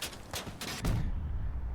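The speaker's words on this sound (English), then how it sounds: "Oh, that's a cannon round." A heavy cannon round fired in the Crossout vehicle combat game, a single loud low boom that rumbles on after several sharper distant shots, with no talk.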